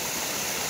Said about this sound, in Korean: 계곡에서 물이 흐른다.